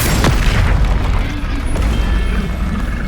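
Confringo blasting spell in Hogwarts Legacy going off as a loud, close explosive boom with a sharp burst at the start, followed by a rumbling decay.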